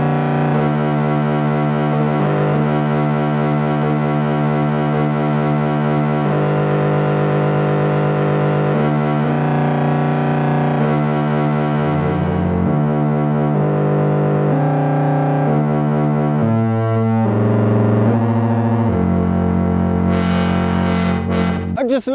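A portable DIY modular synth plays a slow sequence of low, harmonized oscillator tones. The thick, distorted bass chords step from one to the next in long sustained blocks and stay loud and continuous throughout.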